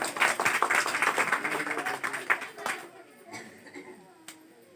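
Audience clapping at a Hindi stage song-and-talk event, a dense burst of applause for about three seconds that thins out and fades to a few scattered claps.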